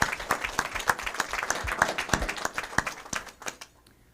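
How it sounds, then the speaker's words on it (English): Sparse applause from a modest group, a steady patter of claps with some louder near hand strikes, tapering off toward the end. "So a round of applause for the whole group"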